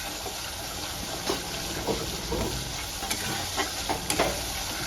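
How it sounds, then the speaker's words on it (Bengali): Ground spices stir and fry in oil in a pan over a low-to-medium gas flame, giving a steady close sizzle broken by scraping strokes of the spoon. "মশলাটা আমি ভালো করে কষিয়ে নেব"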